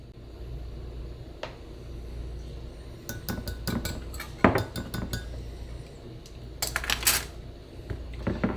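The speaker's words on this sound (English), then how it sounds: "take your whisk and mix that up really good" Fresh lemon juice and sugar whisked in a bowl for a copycat Starbucks lemon loaf: irregular bursts of metallic clinks and scraping against the bowl, sharper toward the middle and end, over a low steady background with no talking.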